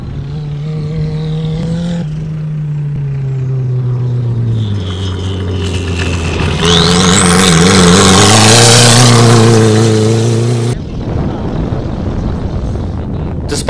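Rally raid cars and a single-seater buggy racing in Kenya, with a loud engine roaring and shifting pitch through gears as a vehicle passes close by, heavy wind buffeting the microphone, then cutting abruptly to another engine.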